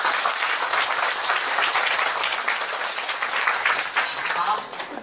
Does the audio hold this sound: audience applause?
yes